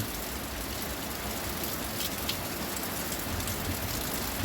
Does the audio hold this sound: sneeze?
no